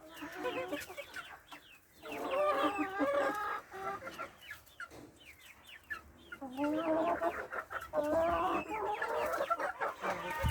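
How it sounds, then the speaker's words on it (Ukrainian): Faverolles hens cluck and chatter in bursts, fairly close, with quieter pauses between runs of clucking. "тут фаверольки, курочки"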